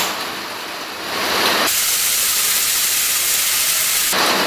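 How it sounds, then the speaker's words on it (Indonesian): Milky pudding mixture for a layered Surabaya pudding boils in a pot while being stirred, giving a steady broadband hiss that swells louder after the first second and runs on evenly without any talk. "Direbus sambil terus diaduk-aduk ya Bunda"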